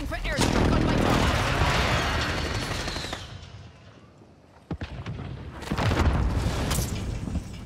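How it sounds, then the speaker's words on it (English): Airstrike explosions in a battle royale video game, heavy booming blasts that roll and fade, a short lull with a sharp crack, then another loud burst, with voices talking over them. "Calling for airstrike on my top."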